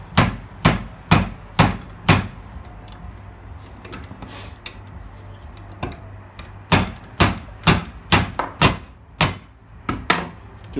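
Metal tube tapping a bearing's inner race onto a crankshaft: sharp, close hammer-like knocks in quick bursts of several, with a quiet pause in the middle and no talking.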